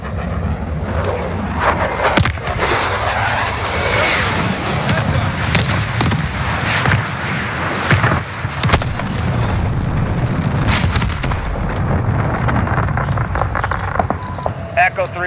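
Air strike in Call of Duty: Modern Warfare, a roaring jet pass and rumbling distant booms under continuous radio chatter, with sharp bursts and crackles scattered throughout.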